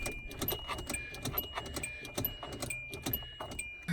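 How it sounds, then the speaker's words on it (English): A car key is wiggled left and right in a sticky ignition lock, making quick close metallic jingles and clicks in an irregular rhythm, quiet overall. "you want to stick your key in the ignition, wiggle it left and right to really lubricate it"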